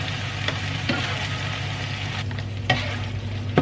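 A sauce mixture thinned with a little water is stirred in a pot, giving a steady close scraping and sizzling with a few sharper scrapes of the spoon along the way, and no voices.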